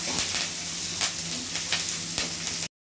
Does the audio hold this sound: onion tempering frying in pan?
yes